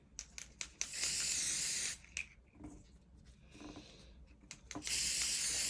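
Bursts of hissing spray from an aerosol can, a few short puffs then longer sustained blasts, close by with pauses between.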